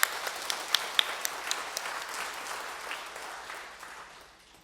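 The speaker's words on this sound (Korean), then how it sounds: "우리 함께 박수로 칭찬." A church congregation breaks into applause during a worship service, many hands clapping together in a dense patter that swells briefly and then gradually dies away.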